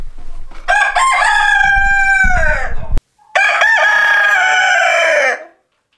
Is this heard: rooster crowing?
yes